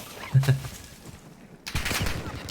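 Gunfire in the shooter Call of Duty Warzone 2.0, a couple of soft distant shots early on followed by a louder burst of crackling fire in the final second, with a voice speaking faintly underneath.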